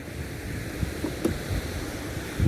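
Churning, wild ocean surf at low tide off Tamarin, Mauritius, a steady broadband wash of water with low rumble and a few soft surges, heard alone with some wind.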